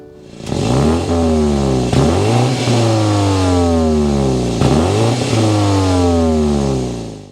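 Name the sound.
2024 BMW X4 xDrive30i twin power turbo engine exhaust revving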